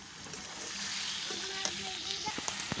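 Beef curry with potatoes sizzles in oil in a pot just after a little broth is added, a soft steady frying hiss with faint stirring scrapes and small pops near the end.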